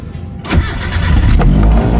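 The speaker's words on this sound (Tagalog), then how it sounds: "umiingay pa rin yung belt" A car engine cranks and catches, then settles into a loud, steady idle with a rough whirring from a noisy, loose drive belt.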